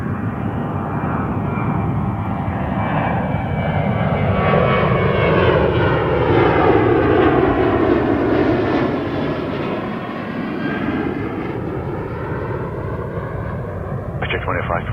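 A Porter airliner takes off from runway 24 left at Toronto Pearson, bound for Nassau, its engine roar loud and steady as it rotates and the gear retracts. The tone sweeps in pitch as it passes, with radio chatter mixed underneath.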